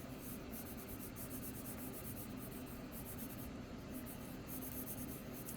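Pencil drawing a stack of books on paper: continuous soft scratchy strokes with quick repeated back-and-forth hatching, close and quiet, with no talking.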